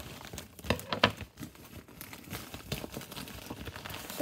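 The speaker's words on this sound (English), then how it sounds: "I have some mighty scissors ready to cut this bad boy open." A mail package being cut open with scissors, with crinkling and tearing of packaging material and a few sharp snips, close but quiet and irregular, no talk.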